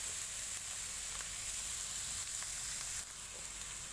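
Chili paste and pork stir-fry in a hot pan, making a steady, loud, close sizzle and hiss that holds almost unchanged throughout, with faint stirring scrapes and no talking.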